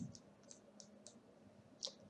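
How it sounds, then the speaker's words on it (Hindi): A computer mouse is right-clicked on a PC, with a few faint, crisp clicks spread irregularly through a quiet room and one slightly louder click near the end. No voices are heard. "फिर उस पर राइट क्लिक कीजिए"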